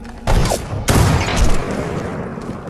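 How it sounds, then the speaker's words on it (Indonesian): Two sharp, loud sniper rifle shots in quick succession, each booming and trailing off into a rumbling echo, in a World War II duel. "dua sniper terbaik dari masing-masing kubu ini pun saling beradu tembakan"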